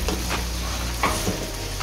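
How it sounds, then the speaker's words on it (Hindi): Chicken pieces sizzle and fry in a pot as they brown for pulao, a continuous close crackle with a couple of stirring scrapes, no voices. "देखिए, चिकन हमारा माशाल्लाह से बड़ा अच्छा ब्राउन हो रहा है।"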